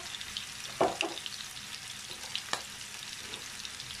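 Filet mignon frying in a pan with onion, a soft steady sizzle with a few louder clicks and stirring scrapes, no voices.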